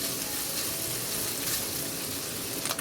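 Bacon and cabbage frying in a pan, giving a steady, dense hiss that holds at an even level throughout, with a brief clatter near the end.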